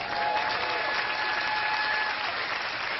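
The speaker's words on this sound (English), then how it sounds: "Give a round of applause to Peg, please." An audience at a live T. Harv Eker negotiation seminar claps together in a dense, steady round of applause that lasts throughout, fairly loud and close, with no one speaking over it.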